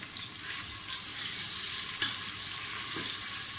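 Chopped onions frying in a pan for palak gosht, a continuous close sizzle with scattered stirring scrapes and clicks, no voices.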